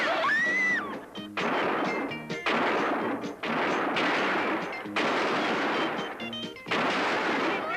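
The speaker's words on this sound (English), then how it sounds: "You all keep firing." Gunfire crackles in a western movie shootout: bursts of rapid shots come in several clusters, loud and close, with brief gaps and whining ricochets between.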